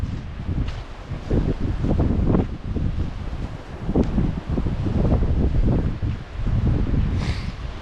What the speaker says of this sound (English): The wind has picked up as well